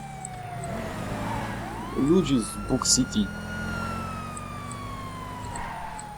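Police car siren in a chase in the video game GTA V, a rising and falling wail close by alongside a driving engine hum and a few short yelps, with someone talking over it.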